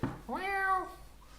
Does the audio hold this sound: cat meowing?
yes